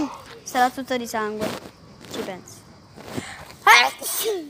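A person sneezes once, a sudden sharp burst near the end, close and loud, coming between stretches of Italian conversation.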